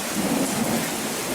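Thunder rumbles through a rainstorm outdoors near horses, a low steady roll under constant rain hiss across the whole short stretch, with no voices.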